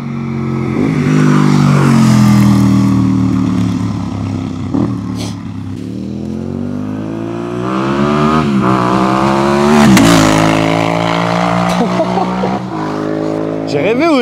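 An adapted motorcycle accelerates hard through first and then second gear, its loud engine note rising and dropping at the gear change. Voices talk over it throughout.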